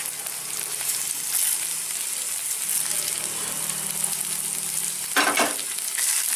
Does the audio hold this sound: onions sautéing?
yes